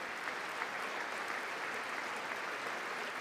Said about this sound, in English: Look at John McCain just clapping.